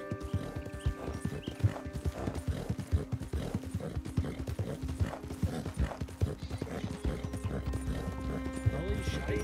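In Red Dead Online, a horse's hooves clip-clop in a rapid, steady rhythm with an occasional whinny, set against game music and someone talking over it.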